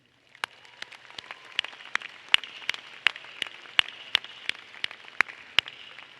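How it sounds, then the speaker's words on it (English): Sparse, scattered handclaps from an audience at a 2018 high school graduation ceremony honoring teachers, spaced irregular claps echoing in a large hall with no voices. "Seniors, will you please join me in a round of appreciation, applause for your teachers."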